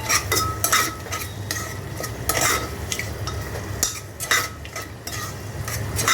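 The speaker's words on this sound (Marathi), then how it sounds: "आता हे आपण मस्त हलवून घेऊ चांगलं" Peas and rice stirred in a pot while making pulao, with repeated close scraping and clattering of a spoon against metal over a soft sizzle, loud and rhythmic, no talk.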